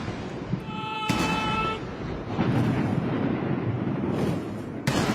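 Ceremonial cannon fire rings out across a historic square during a formal state occasion: two heavy booms about four seconds apart, set against a hushed outdoor ambience.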